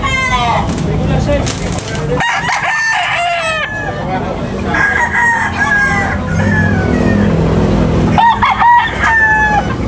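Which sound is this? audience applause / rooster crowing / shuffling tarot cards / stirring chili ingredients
rooster crowing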